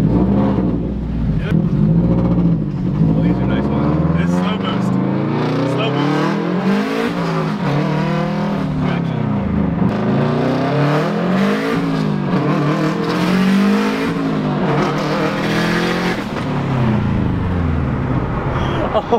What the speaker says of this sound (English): I have to take a ride in Shane's STI. This thing has 500 horsepower